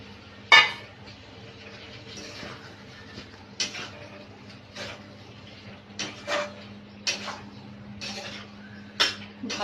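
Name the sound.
stirring potatoes and soya chunks into fried spice paste in pan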